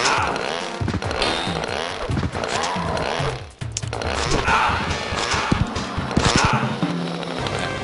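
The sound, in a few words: chainsaw attack of Rancid in video game Time Killers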